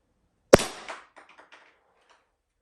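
A single sharp airgun shot cracks out loud and close, its report decaying over half a second into a faint rattling tail of small echoes and clatter.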